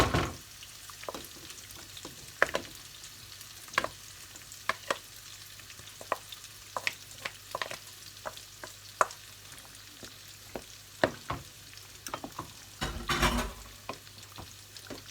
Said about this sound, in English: To the white sauce I'm adding the pasta.